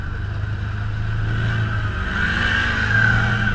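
A Can-Am Defender off-road vehicle stuck in mud revs its engine, a steady droning growl that swells slightly toward the end, heard from a short distance with no talk.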